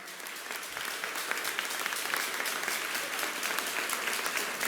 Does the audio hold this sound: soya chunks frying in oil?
no